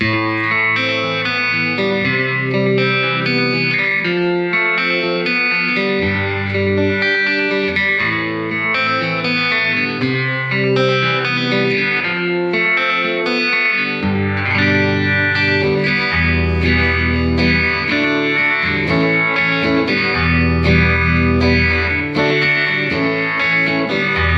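An electric guitar plays chords and melodic lines through the sweeping phaser effect of an MXR Phase 95 pedal, clean and undistorted, continuous, with no voices.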